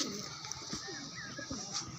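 Fancy pigeons, among them an old Fulchhora Kaldoma bird, coo softly in a loft, with low murmuring calls spread through the clip, close but quiet and without speech.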